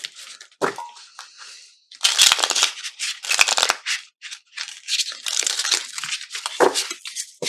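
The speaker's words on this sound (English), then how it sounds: "Oh, these are a little difficult to shuffle." Crisp, stiff, brand-new small tarot cards are shuffled up close in several bursts of rustling and flicking, with brief pauses between rounds.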